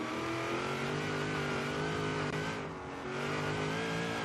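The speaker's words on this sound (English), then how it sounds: "Listen to the supercharger, man." A supercharged Chevy Bel Air gasser in Forza Horizon 3 holds a loud, steady engine drone with supercharger whine, dipping briefly before building again, heard close and alone.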